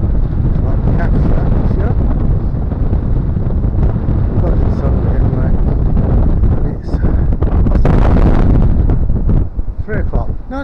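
Strong wind on the Norfolk coast at Cromer buffets the microphone with a loud, continuous roaring rumble that surges and dips throughout.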